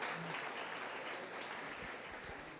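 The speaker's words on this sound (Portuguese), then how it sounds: "uma salva de palmas aí para esses queridos aí" Applause from a church congregation after a call to clap for welcomed guests, a steady dense wash of clapping that continues without pause and without speech.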